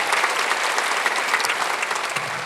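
A church congregation at a Sunday worship service claps together in dense, steady applause that stays even and fairly loud throughout.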